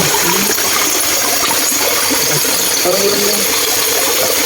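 Steady rushing water at a mountain spring fills the scene, a broad continuous wash of flow with faint voices now and then beneath it.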